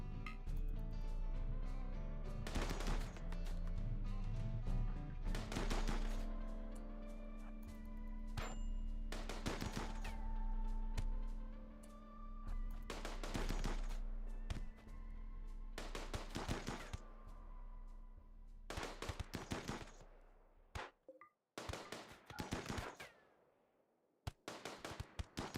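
Gunfire from colonists and raiders in RimWorld crackles in irregular bursts of sharp shots, fairly loud over a low game hum, with sparser pops toward the end.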